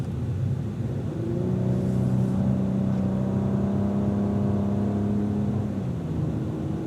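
A Cadillac race car accelerates out of a corner at Auto Club Speedway. Its engine drone stays steady and moderately loud, and its tone slowly climbs and then settles, with no talking.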